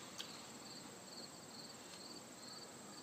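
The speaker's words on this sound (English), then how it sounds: "there's always the sound of crickets." Faint, steady cricket chirps repeating in a regular pulse over a quiet background hiss, with no voices.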